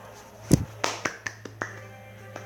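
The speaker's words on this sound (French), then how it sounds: "On applaudit tous des mains." Several sharp hand claps land in a loose, irregular run over a quiet background, fairly soft and close.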